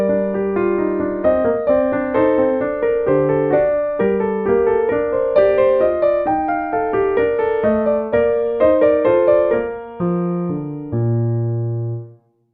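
A MIDI music file plays back sped up to tempo 130, allegro: a brisk melody of clean synthesized tones in quick regular notes with a lower sustained part, ending on a held low note and then silence, no talking.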